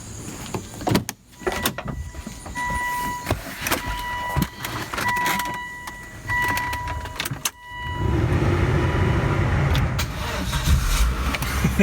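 A car is jump-started with a portable jump pack: clicks and a whirring power-window-like tone come first, then the engine catches and settles into a loud, steady running rumble close by.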